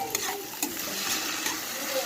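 Potatoes fry in a pan while being stirred, a gentle sizzle punctuated by a few distinct scraping clinks of the spoon against the pan, with no voices.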